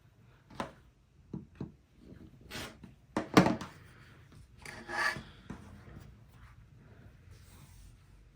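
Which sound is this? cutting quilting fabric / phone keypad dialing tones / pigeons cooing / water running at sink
cutting quilting fabric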